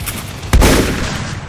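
Gunfire in the Free Fire mobile battle royale game: a single loud, sharp shot bursting over a dense, noisy game background, followed by a lingering rumble.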